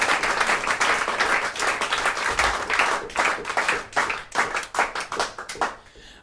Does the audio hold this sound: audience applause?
yes